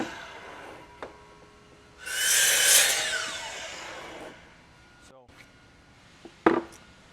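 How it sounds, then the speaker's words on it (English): A power saw cuts a wooden stair side piece to rough length: a loud, bright whine that rises and holds for about two seconds, then fades, with scattered knocks and handling clatter before and after and a voice talking nearby. "So I'm going to cut our side pieces just to a rough length."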